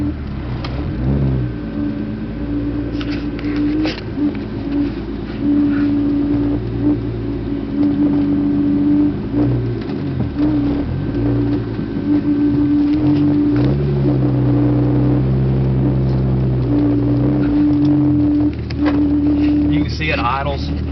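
A turbocharged VR6 engine in an 1986 VW GTI idles steadily and close by, a continuous low rumble with a droning hum that holds for the whole stretch.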